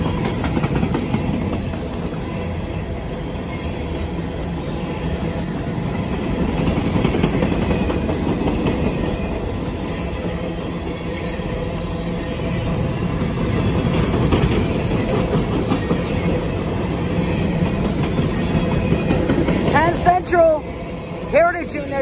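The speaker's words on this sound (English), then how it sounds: "Heritage Unit 1073 leading NS55G going to somewhere in Missouri." A Norfolk Southern freight train, NS 55G, passes at Glendale, Ohio, led by Penn Central heritage locomotive 1073. A steady rumble and clatter of rail cars builds and fades, with people talking over it near the end.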